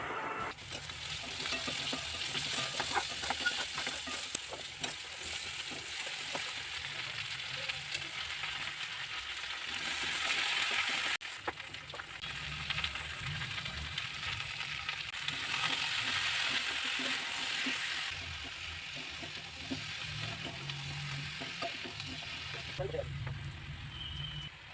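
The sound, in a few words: Malabar spinach cooking in a wok with spices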